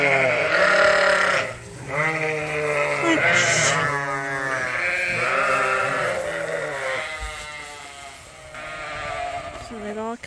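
Lambs and sheep bleat repeatedly and loudly on a farm during handling for deworming and tattooing, their overlapping cries close by with a person's voice mixed in.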